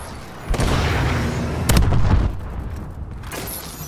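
Bombing-run explosions in Call of Duty: Advanced Warfare land as loud, heavy booms: one burst early on, then a bigger rumbling blast cluster in the middle, fading into a lingering roar.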